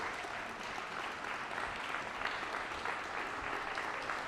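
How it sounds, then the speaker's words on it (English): An audience applauds a recognition committee at a city awards ceremony, steady sustained clapping filling the room at moderate level with no pauses. "And let's give them a round of applause for their service."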